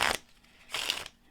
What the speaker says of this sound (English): Do your shuffles to keep it on the top